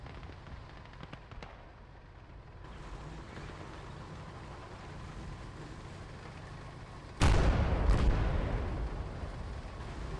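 A field gun fires in the game Call to Arms - Gates of Hell, one loud deep boom that rolls off into a long rumble, over a constant low background of distant battle.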